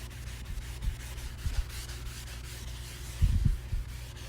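A Mr. Clean Magic Eraser rubs across a tile in short, quiet scrubbing strokes, with two brief bursts of friction separated by a steady low background hum.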